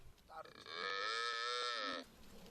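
A dairy cow lows at a cow and goat farm in Kuryongpyong, Rason, giving one long, loud, steady moo lasting about a second and a half over quiet background noise.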